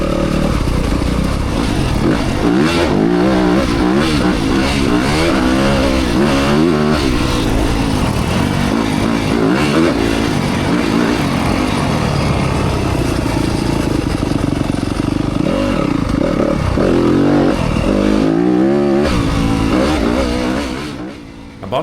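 A 2025 Yamaha YZ250FX dirt bike engine revs up and down repeatedly while riding, loud and close, with rising and falling pitch throughout and a sudden drop at the end.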